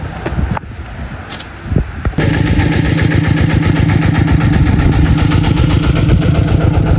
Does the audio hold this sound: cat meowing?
no